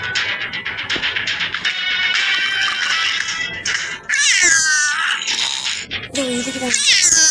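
A cat meows repeatedly in the video game Ice Scream chapter 2, loud drawn-out cries and caterwauls following one another in quick succession, close by and in the foreground.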